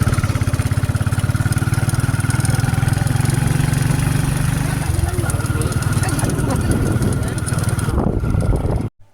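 A motorbike engine drones steadily and close while riding with three aboard, a loud continuous mid-pitched hum with a shift in tone partway through before cutting out at the end.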